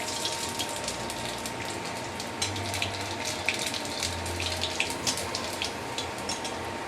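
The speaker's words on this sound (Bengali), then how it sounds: "তেলটা গরম হয়ে গেলে আমি এখানে দিচ্ছি কিছুটা জিরে আর একটা শুকনো লঙ্কা" Cumin seeds and a dried red chili sizzle in hot oil in a pan for egg tarka dal, a steady close frying hiss scattered with small crackles and pops.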